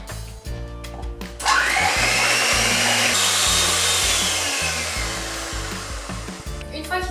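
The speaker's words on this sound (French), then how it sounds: "On va fouetter ces blancs en neige." An electric mixer whips egg whites for a chocolate cake: after a brief start, a loud, steady motor whine with a beater rattle holds throughout, while music plays underneath.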